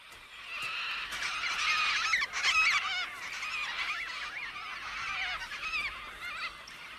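A Major Mitchell's cockatoo gives loud, harsh, raspy calls in a continuous squawking stream, close by and alone with no talk over it.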